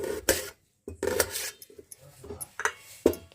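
A knife chopping onions and green chillies on a board in a home kitchen, with a few separate knocking cuts and metallic clinks spread unevenly across a short stretch, close and moderately loud.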